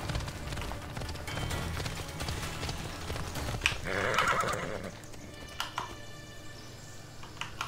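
Horse neighs and clip-clops at a gallop in Assassin's Creed Odyssey, a loud whinny rising mid-clip over steady hoofbeats and game ambience, with no talk.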